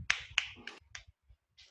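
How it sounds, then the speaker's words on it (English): A handful of sharp hand claps, four or five quick uneven slaps close by, fading out within a second or two, alone with no voices. "Let's clap for yourself."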